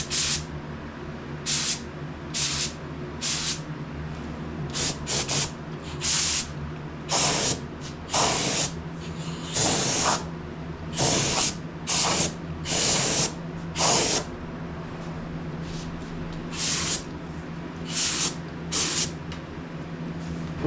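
Undercoating sprayed from an aerosol can onto the shock tower of a Datsun 280Z, heard as a long run of loud, close hissing bursts of uneven length separated by short pauses, with no talking.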